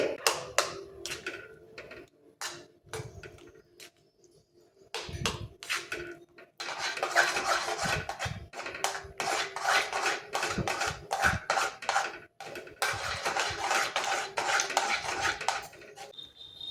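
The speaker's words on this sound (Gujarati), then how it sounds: "આપણે કન્ટિન્યુ આવી રીતે હલાવતા રહેવાનું છે અને એકલું છોડવાનું નથી" A utensil scrapes and clatters against a pan as milk cream is stirred steadily while it cooks down into ghee, giving continuous rhythmic scraping bursts with short pauses, close and fairly loud.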